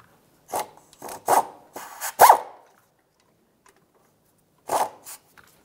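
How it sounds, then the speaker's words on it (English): Mounting bolts come off a transfer case shift motor on a 2002-2009 Chevrolet Trailblazer under a 13 mm socket, heard as several short, close rasping ratchet strokes in two groups with a pause between them. "Now we'll start removing each of those four mounting bolts."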